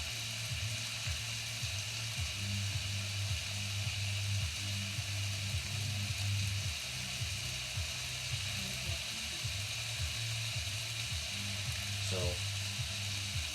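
Bacon frying in a pan gives a steady close sizzle and crackle throughout, with a brief spoken word near the end.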